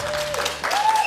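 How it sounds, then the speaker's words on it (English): A brief burst of audience applause at a Street Fighter V esports event, under a faint tonal hum, loud and close, lasting about a second. "let's give him a huge round of applause, guys"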